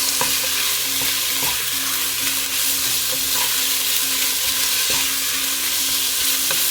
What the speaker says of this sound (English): So we're going to saute our meat until it's cooked.